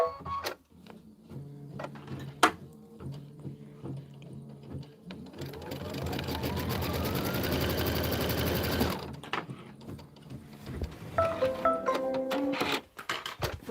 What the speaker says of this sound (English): Now it's going to sew straight down.